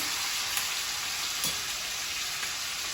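Steaks turned in a pan of garlic butter and thyme keep up a loud, steady sizzle and spatter, with one or two soft knocks as they are flipped and no voices.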